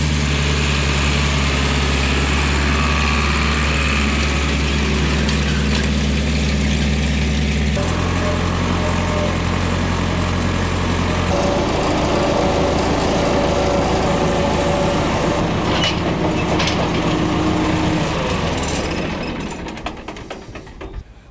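A tractor pulls a new harrow through a field for first tillage, its engine running steadily and close by at mid pitch, shifting in load a couple of times before trailing off at the end.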